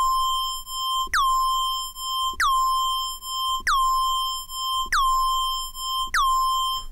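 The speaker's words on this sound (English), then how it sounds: "Just a square wave with a slight detune. Just one cent. You get the phasey sound." Square-wave synth patch with a one-cent detune and short pitch decay, playing five evenly spaced plucky notes, each starting with a quick downward pitch blip before settling into a steady bright tone.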